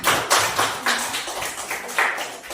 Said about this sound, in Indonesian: Beri aplaus untuk kelompok 1, 2, dan 3 semuanya